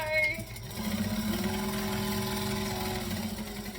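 A sewing machine stitches fabric pieces in a continuous chain with no tails, running as a steady mid-pitched whir for about two and a half seconds before slowing to a stop, close and moderately loud.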